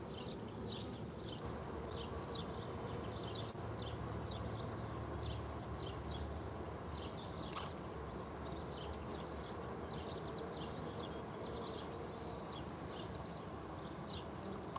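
A low, steady drone of honey bees buzzing and fanning at a hive, faint and continuous, with light chirping bird-like notes scattered above it and no talking.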